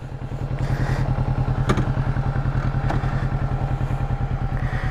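A Kawasaki Z650 motorcycle engine runs steadily and close up through a ride, its loud, even pulsing rhythm carrying on without pause, with a couple of faint clicks and thuds over the top.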